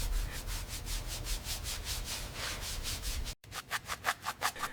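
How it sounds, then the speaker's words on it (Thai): A polishing machine buffs fresh paint on a 1957 BMW Isetta 300, giving a steady rhythmic rubbing whir with regular pulses that briefly cuts out and then resumes in shorter strokes, close and moderately loud. "พอสีแห้งปุ๊บ ก็ลงเครื่องขัดเงาต่อทันที ขัดให้วิ้งวับจนใช้แทนกระจกสองหน้าได้เลย"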